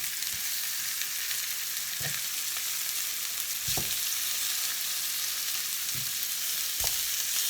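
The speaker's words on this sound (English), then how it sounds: "And they're just frying away nicely." Lamb chops sizzling in a pan, a loud continuous frying hiss with occasional soft pops and clicks, no voices over it.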